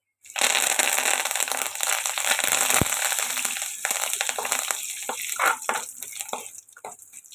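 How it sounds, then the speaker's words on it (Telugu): Tempering of curry leaves, dried red chilli and seeds sizzles and crackles in hot oil in a pan, a bright continuous hiss with scattered pops and sputters fading toward the end. "పోపు ఇలా ఫ్రై అవుతుంది కదండి"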